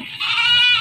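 A goat at a livestock market in Banjarnegara gives one clear, close, wavering bleat that lasts almost a second.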